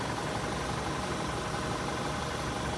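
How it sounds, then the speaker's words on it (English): A 2016 VW Tiguan engine idles with the AC compressor off, producing a steady, even low rumble and hum with no variation, heard close and alone. "We hear the idle appear to go down a little bit, maybe the fan cut off, and no activity."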